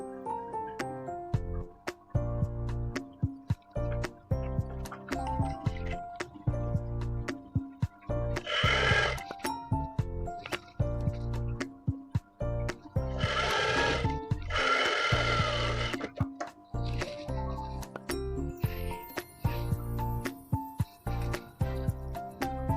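A sewing machine runs steadily and loudly while stitching the side of a skirt made without a pattern, with a continuous mechanical whir, some brief louder bursts and no talking.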